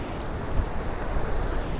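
Ocean waves at Willunga Pier in Australia make a steady, broadband roar of surf mixed with wind buffeting the microphone, continuous and fairly loud, with no voices.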